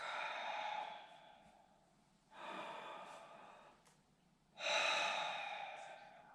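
A person deliberately breathes out sideways through the nose, imitating a horse's breath signal: three soft, breathy nasal exhalations, each a few seconds long with short pauses between, close up and alone.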